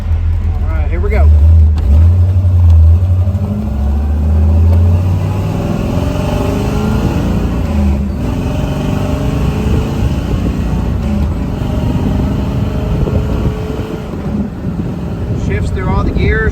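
A 1969 Chevrolet Camaro convertible RS SS 396 V8 pulls away and accelerates up through its gears, heavy engine rumble rising and dropping at each shift, with steady wind rush throughout.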